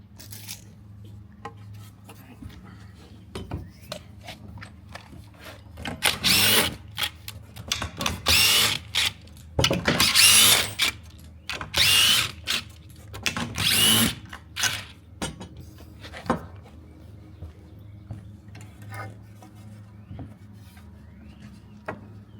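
Power drill driving and backing out screws during assembly of a six-foot panoramic barrel sauna, several loud whirring bursts of a few seconds each separated by pauses, with faint handling clicks and no talking.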